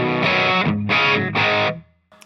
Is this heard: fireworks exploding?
no